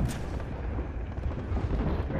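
Heavy gunfire in the video game Apex Legends, booming and sustained for a couple of seconds with no talking.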